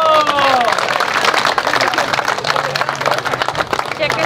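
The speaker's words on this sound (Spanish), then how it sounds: "Aplausos. ¡Viva los novios!" Guests applaud the newlyweds at a traditional wedding in Tecoanapa, a burst of clapping and crowd noise with cheering voices, opening over a brief tonal sound before settling into sustained clapping.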